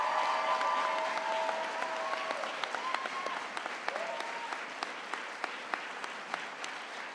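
An awards ceremony audience applauds steadily for several seconds, dense clapping filling the room with a few sharper claps standing out near the end.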